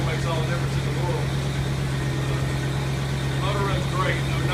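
An International Scout 800A idles after a cold start, a low, steady engine hum with a strong constant tone, while someone talks over it.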